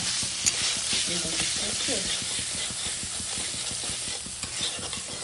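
Prawns fry in hot oil in a kadai, with a steady close sizzle and a rapid, repeated scraping of a spoon stirring them throughout, and no talk over it.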